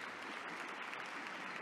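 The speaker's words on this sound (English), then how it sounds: "Clap, clap, clap." Steady applause from the video game The Lion's Song, a dense even patter of clapping that holds for under two seconds without a break.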